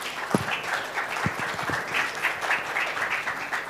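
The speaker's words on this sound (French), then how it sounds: "Et vous devez les applaudir tout de suite pour les féliciter." Crowd applause at a French-language gathering, steady clapping from many hands lasting throughout, with a few sharper nearby claps standing out.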